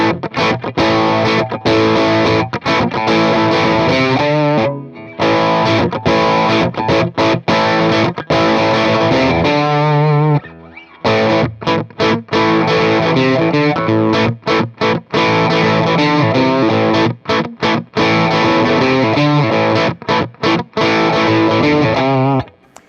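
Electric guitar riffs played through a Boss Blues Driver overdrive pedal, light breakup, gritty and loud, with choppy rhythmic strums and brief pauses between phrases.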